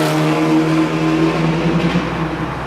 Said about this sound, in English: the engine sounds really fruity and nice